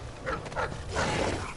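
A dog in Dishonored 2 gives a few short, nasal whimpers and yips in quick succession over a low ambient hum, fairly quiet and heard alone.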